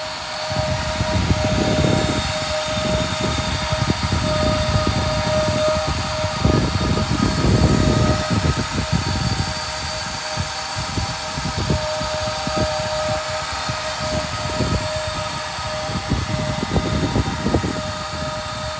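A 2019 Ford Transit 250 van's 3.7-liter V6 gasoline engine runs throughout, a low rumbling drone with a constant high whine on top, holding an even level with no voices.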